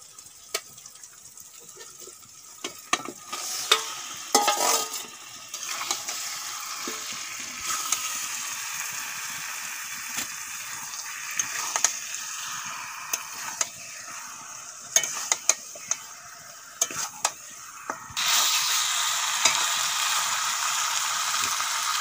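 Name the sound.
spiced duck meat frying and being stirred in pan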